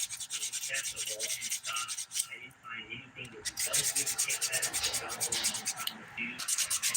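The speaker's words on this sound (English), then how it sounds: "Now I'll switch back over to the 180 grit side to refine the shape." A 180 grit nail file scrapes back and forth across an acrylic nail in quick, steady close-up strokes, with a brief pause partway through and no talking.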